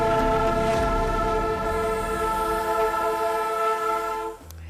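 Freight train rolling along a rail line that runs through a residential neighborhood, its horn holding steady multi-tone blasts over a loud, continuous rumble before cutting off near the end.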